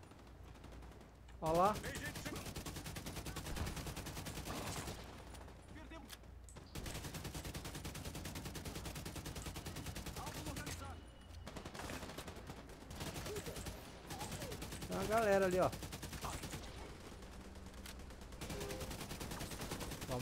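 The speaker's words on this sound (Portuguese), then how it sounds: "já tô vendo que o tiro já tá comendo solto ali" Gunfire in The Division 2 in a financial-district setting: continuous bursts of automatic fire and shots through the whole stretch, mid-distance and steady, while someone talks over the shooting now and then.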